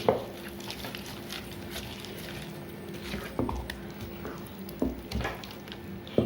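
A jackfruit mixture with dry ginger, cardamom and cumin is stirred, producing soft, close squishing and scraping with a few light knocks over a faint background hiss.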